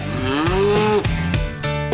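Water buffalo at a buffalo training school in Thailand give a loud, close series of drawn-out, tonal moos that overlap one another, with no voices.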